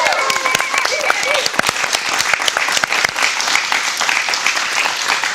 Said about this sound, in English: Can we already get a round of applause for them?